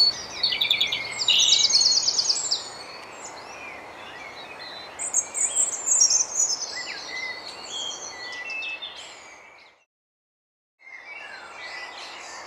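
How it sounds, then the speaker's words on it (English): A European robin sings high, thin, warbling phrases at dawn, moderately near, over a soft steady background hiss with a brief silence near the end. "Dave Gosney catches the spirit of the robin's song with his mnemonic."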